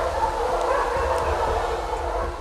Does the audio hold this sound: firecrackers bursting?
no